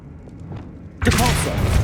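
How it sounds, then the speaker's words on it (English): Casting the Descendo spell in Hogwarts Legacy: after a quiet second, a sudden loud slamming impact hits with a rush of sustained, rumbling energy that holds steady to the end. "Down I go. No other way. Descendo."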